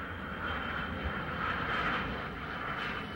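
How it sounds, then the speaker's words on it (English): A Lockheed C-141 military jet airlift airplane produces a steady, loud broadband engine roar that holds constant throughout, with no talking. "the 141 was the first jet airplane designed to do a military airlift job"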